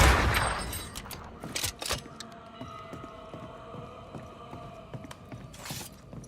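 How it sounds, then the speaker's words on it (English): Gunfire in a Ghostbanishers video game: a sharp burst of shots near the start, then a few loud bangs with metallic ringing and creaking mechanisms fading into a quieter echoing space. "what was that gunshot?"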